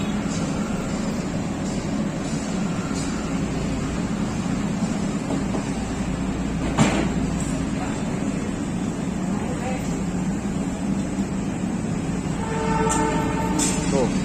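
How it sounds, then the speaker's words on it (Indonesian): Continuous heavy rumbling and rattling of a train passing on nearby tracks in Karawang, Indonesia, loud and close, with a sharp clank midway and brief higher whines near the end. "Tuh, suara kereta api ya."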